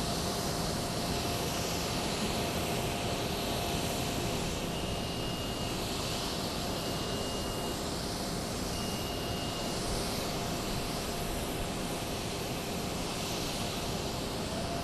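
A Sri Lankan Airways jet airliner departing Sri Lanka roars steadily and loudly for the whole stretch, a broad continuous engine rumble with no speech.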